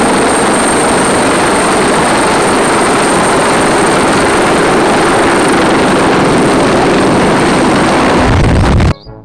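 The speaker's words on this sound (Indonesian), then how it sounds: "Helikopter." A helicopter drones loudly and continuously up close, a dense rotor and engine roar with a steady high whine, cutting off abruptly near the end.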